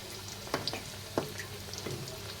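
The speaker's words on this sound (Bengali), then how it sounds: "কথা বলতে বলতে দেখো আমার কিন্তু ভাজাও হয়ে আসছে" Flour and potato snack pieces fry in hot oil with a steady soft sizzle, broken by a few sharper pops and spatters, close by and with no voices.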